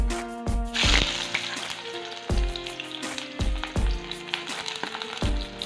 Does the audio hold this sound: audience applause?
no